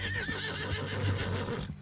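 A horse in the video game Red Dead Redemption 2 whinnies and neighs continuously at close range, with a wavering high call over a steady low rumble and some hoof-like shuffling, without any talk.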